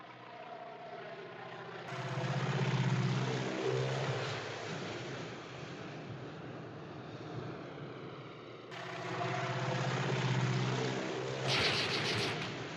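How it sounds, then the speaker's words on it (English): A crop duster plane's propeller engine drones across open farmland in the 1959 film North by Northwest, a rough, steady roar that swells, fades somewhat, then swells again as the aircraft swoops past. "That plane's dusting crops where there ain't no crops."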